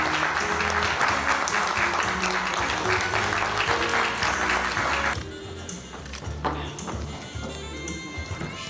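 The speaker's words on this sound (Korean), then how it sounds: "큰 박수로 축하드립니다." A large crowd claps loudly and steadily at a ceremony launching a regional national-unity council, then the applause thins and fades to scattered claps and room noise.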